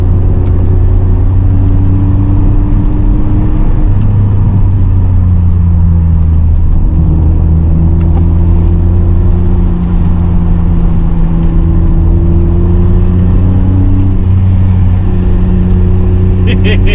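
A BMW 525i E34 sedan over 25 years old drives past with a steady, loud engine hum that rises and falls through gear changes, under heavy constant wind and road noise.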